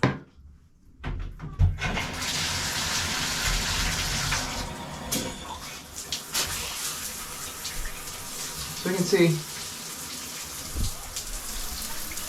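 A standard 2.5 gallon per minute household shower head sprays water in a steady, close, hissing rush, with a brief quiet moment at the start and a few words spoken over the flow.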